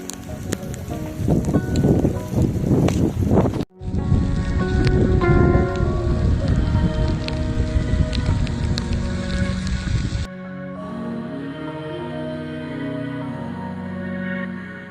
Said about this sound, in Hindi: बारिश हो रही है बहुत प्यारी।